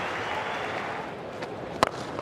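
A large cricket crowd at the Melbourne ground applauding a one-day international innings by Mark Waugh, a broad steady wash of clapping that gradually thins, with a sharp single crack near the end.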